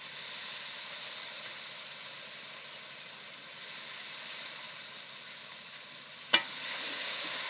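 Spice paste with a little water is stir-fried in a pan, a steady close sizzling hiss that runs throughout, broken near the end by one sharp clack of a utensil, with no talking.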